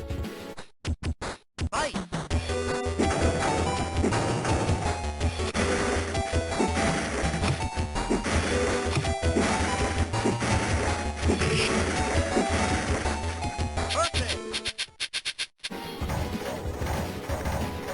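The car-smashing bonus stage in Super Street Fighter II Turbo plays as a dense, loud run of crashing, thwacking hits and metallic impacts over game music, continuous for most of the stretch before breaking off near the end.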